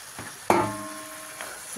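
Chicken pieces dropped into a pan of simmering water and spices, a sudden sizzling splash followed by a soft fading hiss and a faint stir, brief and close, no speech.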